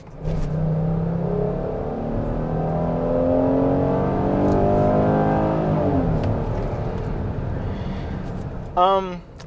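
A 2020 Chrysler Pacifica minivan engine revs in low gear with a rising, growling whine that holds steady and loud for several seconds, then eases off, with a brief voice at the end.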